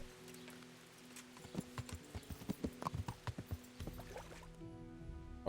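A horse's hooves clip-clop in a quick, steady rhythm over a low ambient hum in the video game Kingdom Come: Deliverance, fairly faint and without voices.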